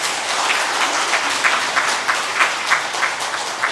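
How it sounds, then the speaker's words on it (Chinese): A church congregation applauds in a steady, fairly loud burst of many hands clapping, the rhythm dense and even across the room. "我们用掌声来欢迎他们"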